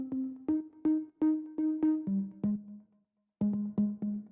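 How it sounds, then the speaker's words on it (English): An organ bass synth preset from Serum plays a bouncy line of short, punchy notes with bright harmonic overtones. A brief gap interrupts it before the pattern resumes, loud and alone. "So for this one, I used an organ bass."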